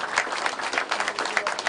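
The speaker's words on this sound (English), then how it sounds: "Please, another round of applause for our minister." A crowd at a live event in Kuje Prison applauds the Minister of Interior with dense, lively clapping that runs steadily throughout.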